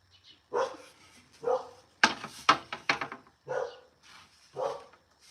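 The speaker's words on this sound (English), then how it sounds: "she's gonna keep barking until I let her inside" A pet dog barks outdoors in short, sharp bursts, with single yaps and a quick cluster of barks, spaced by brief pauses and heard fairly close.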